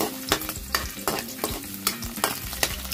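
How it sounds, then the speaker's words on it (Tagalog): Hot oil sizzles and crackles steadily as garlic fries in a pan, with rhythmic stirring scrapes recurring every half second or so, close and moderately loud, no voices. "kasi lumakas yung tunog ng mantika."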